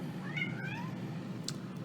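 A house cat gives a few short, rising meows close by in a kitchen, over a steady background hum.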